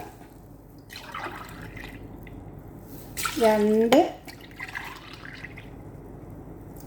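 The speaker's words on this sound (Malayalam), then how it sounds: "നാല് ഗ്ലാസ് പാലാണ് ഇതിലോട്ട് ഞാൻ ആഡ് ചെയ്ത് കൊടുക്കാൻ പോകുന്നത്" Milk poured from a glass into a pan while making a Sweet Layali (Labnan) dessert: one short, splashy pour with a rising, filling tone, heard clearly between bits of counting speech.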